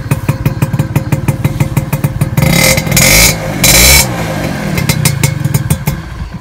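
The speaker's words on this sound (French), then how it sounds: "Je vais vous faire écouter un peu le bruit, si je veux bien démarrer." A scooter's small engine starts with a quick rhythmic chugging, revs up loudly for a couple of seconds, then settles back into a steady putt-putting idle close by.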